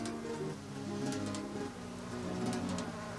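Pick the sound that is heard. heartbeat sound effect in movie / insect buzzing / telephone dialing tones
insect buzzing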